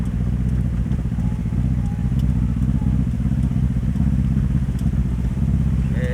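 A car pushing through floodwater estimated at half a meter to one meter deep on the road to Pulo Tiga, Aceh Tamiang, with a loud, steady engine drone close by and faint clattering over it.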